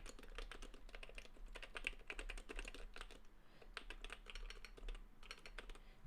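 Rapid, busy typing on an HHKB keyboard with a metal case, dense clacking keystrokes in quick uneven bursts with brief pauses, close and fairly quiet, no voices.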